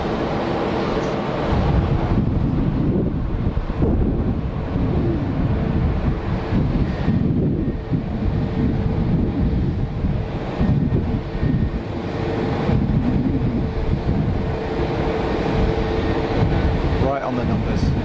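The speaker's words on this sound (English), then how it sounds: "Looks like an EasyJet on final." An EasyJet airliner on final approach to Geneva Airport gives a continuous, fairly loud engine drone mixed with wind buffeting, while people talk over it intermittently.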